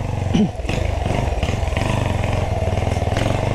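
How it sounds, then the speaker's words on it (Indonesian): A Honda CB motorcycle rides slowly on a test drive along a busy road, its engine putting out a steady, loud, close low rumble throughout. "Oke, kita ini tes drive pelan-pelan aja Sam ya, nggak usah banter-banter."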